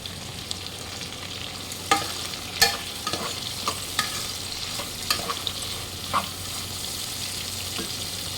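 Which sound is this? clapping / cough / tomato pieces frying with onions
tomato pieces frying with onions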